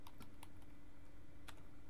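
Quick bursts of keystrokes on a computer keyboard, close and fairly quiet, with irregular clicks over a low steady room hum.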